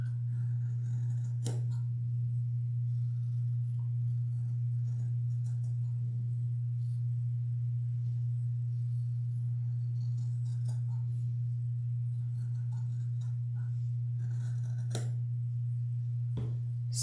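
Repeated crisp snips of Ginger fabric scissors cutting through cloth, spaced irregularly over a steady low electrical hum.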